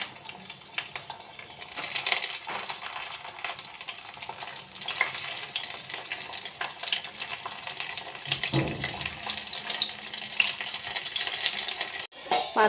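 Bhetki fish paturi parcels fry in a pan, giving a steady, close sizzling hiss that holds throughout, with brief crackles and one short pause near the end.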